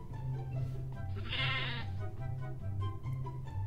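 Sheep bleating in a video game, a wavering bleat rising over a steady droning game soundtrack and background noise, at moderate level.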